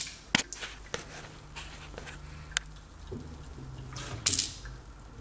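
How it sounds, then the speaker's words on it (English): A dripping water tap that won't shut off, set in a worktop, gives sharp, irregular drips and splashes over a low background hum, close by, with a brief louder burst of water near the end. "This is today's problem. A dripping tap."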